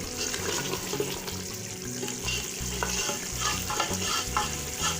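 Mutton and fresh green beans are stirred and fried in a pot, giving a continuous wet sizzle with repeated scraping strokes of a spoon, close and steady.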